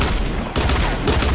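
Gunfire in the video game Fortnite, a loud burst of rapid shots with a brief cut partway through, then the firing resumes.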